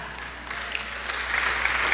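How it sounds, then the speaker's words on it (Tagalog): Faint, scattered applause from a church congregation during a sermon on generosity, a soft hiss of a few hands that swells slightly toward the end. "Mahina ang palakpak."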